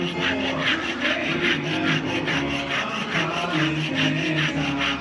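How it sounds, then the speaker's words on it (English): Race car brake pads are sanded by hand in steady back-and-forth strokes, a close, rhythmic scraping rasp repeated about twice a second with no talking. "Sanding the brake pads so we're down to the good and not glazed over."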